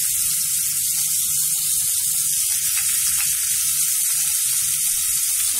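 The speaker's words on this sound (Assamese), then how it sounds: "এখিনি মই ভাজি লম অলপ সময়" Onion and green chillies frying in the same oil used to fry shol fish, with panch phoron spices, for a fish curry: a loud, dense, continuous sizzle heard up close with no voices.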